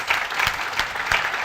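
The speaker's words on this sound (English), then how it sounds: "Can we first have a round of applause?" An audience at a panel on public-private health partnerships breaks into a dense, steady round of applause that sounds fairly loud and full throughout the short moment.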